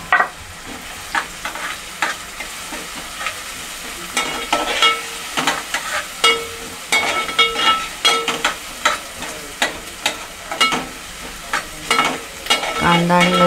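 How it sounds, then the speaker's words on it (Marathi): Onion and crushed garlic fry in oil for a jackfruit curry, a steady close sizzle broken by repeated sharp scrapes and knocks of a spoon stirring the pan, with no voices. "कांदा आणि लसूण छान शिजवून द्यायची आहे तेलामध्ये"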